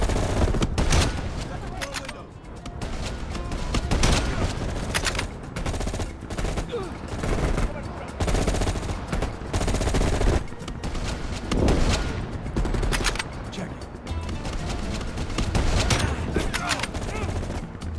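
Rapid gunfire bursts from Call of Duty: Black Ops Cold War, including sniper and automatic weapon shots, crackle and boom loudly and almost continuously, with occasional player voices talking over the combat.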